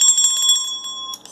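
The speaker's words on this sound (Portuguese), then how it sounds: "Prof. Clóvis, por que eu preciso acionar o sininho?" A bright notification bell chimes loud and close: a quick ringing trill of metallic strikes that rings on, then fades, with a short second ding near the end.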